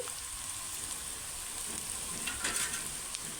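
Pieces of spiny gourd (boda kakarakaya) frying in a pan, giving a steady, close hiss of sizzling with light crackle throughout and no talking.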